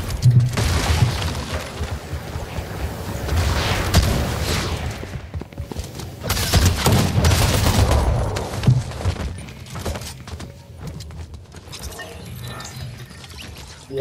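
Gunfire and bursts of game combat in Fortnite Chapter 5 ranked play, with repeated loud shots and impacts across the whole stretch and a dense, busy mix that eases off slightly near the end.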